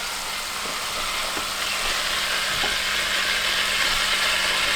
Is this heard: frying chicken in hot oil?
yes